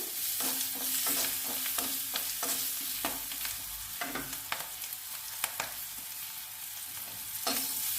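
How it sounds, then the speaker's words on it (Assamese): Onions and whole spices sizzle steadily in hot oil in a pan while a utensil scrapes and stirs with repeated clinks, close and fairly loud, no voices. "প্ৰথমে মই গৰম মছলা দিলোঁ, দি পিঁয়াজ দি কিনে এইখিনি ভাজি লওঁ।"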